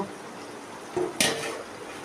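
Spice paste for fish curry being stirred in a pan, a brief scrape followed by a louder sizzling swish of the spoon working the paste, close and short, with no talking.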